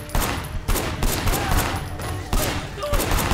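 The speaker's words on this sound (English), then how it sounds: "These stupid people are shooting their boss." Rapid bursts of gunfire from the Sleeping Dogs video game, with volleys of shots overlapping in a steady fusillade throughout, loud and close, with brief lulls between clusters.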